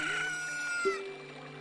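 A chicken in The Legend of Zelda: Ocarina of Time gives a short, high crowing squawk, loud and alone, lasting barely over a second.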